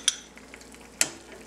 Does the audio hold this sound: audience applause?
no